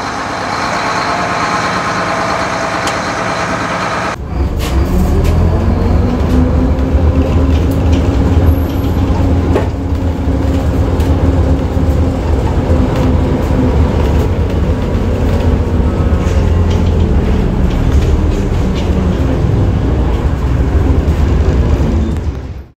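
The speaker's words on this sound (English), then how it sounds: "I have finally driven an AEC Routemaster." An AEC Routemaster London bus drives along, its diesel engine a loud, steady low rumble with mechanical rattles that kicks in abruptly after a quieter opening and holds close and constant throughout, with no talk.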